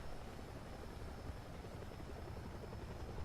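Helicopter flying nearby in the racing game The Crew 2, a steady whirring rotor drone that holds at an even, moderate level throughout with no speech.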